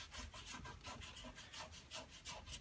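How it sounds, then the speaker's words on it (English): Steady back-and-forth sanding strokes rub along a shaft to roughen it for epoxy, a close and even rhythmic scraping with no talk. "now I'm gonna sand on the shaft, from the tape down to the tip"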